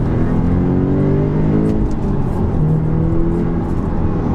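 An Audi S3 pulls hard in second gear, its engine note rising steadily as it accelerates, loud and continuous from inside or close by, with no talk over it.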